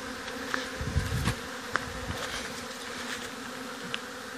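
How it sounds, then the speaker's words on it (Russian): A small swarm of honeybees buzzes steadily while entering a hollow log hive, a close, even hum with occasional louder passes of individual bees flying near, and no talking. "Пчелки заходят."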